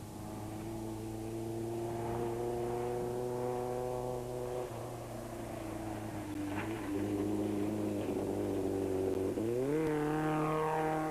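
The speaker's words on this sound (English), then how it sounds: "The Toyota Hilux of Shumi van Vieren and Fanny Kotze was still going strong" A Toyota Hilux rally truck races in the 1996 Sugarbelt 400 desert rally, its engine droning steadily with a loud, sustained roar that climbs in pitch near the end as it accelerates.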